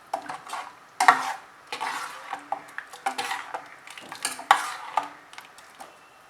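Water being added to a pan of ladies finger kara kuzhambu, a tamarind okra curry with ground masala paste, bringing irregular close stirring scrapes and utensil clinks against the pan with a light sizzle, no talking.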